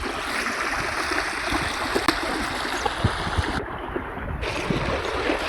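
A stream swollen with floodwater after a day of heavy rain in Nashik district, Maharashtra, rushing steadily and loudly in a continuous broadband roar, close by, with no voices over it.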